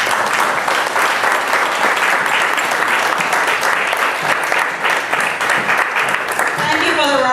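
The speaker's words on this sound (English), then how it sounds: "Thank you for the round of applause for Pastor Barbara." A banquet crowd at a church gala gives a loud, sustained round of applause for a pastor, many hands clapping densely and close by, with voices mixed in beneath the clapping.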